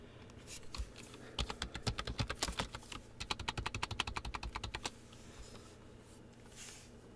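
Someone types on a computer keyboard, a quick run of close, crisp clicking keystrokes in irregular bursts that stops partway through, leaving quiet room tone.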